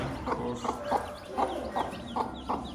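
Repeated clucks and chirpy calls from newly hatched chicks, close by, coming in a steady rhythm of short bursts.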